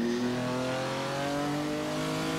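A 1962 Ferrari 250 GTO race car engine revs continuously in Assetto Corsa, its throaty note climbing steadily in pitch, loud and close with no talking.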